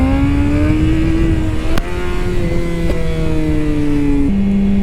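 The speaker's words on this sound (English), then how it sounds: "Like I could do a wheelie going like this fast." A motorcycle engine revs hard and accelerates, its pitch climbing steadily before dropping briefly with a gear change and climbing again as the bike lifts into a wheelie; loud and close, with no talking.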